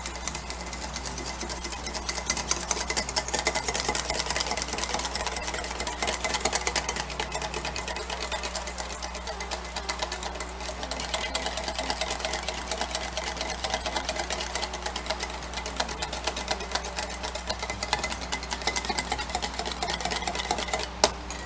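Electric mixer whirring steadily as it blends a sauce made with Worcestershire sauce, a continuous close motor drone with no talking.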